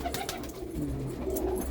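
A pigeon held by a village pigeon keeper coos softly, low steady warbling calls close by with no talking.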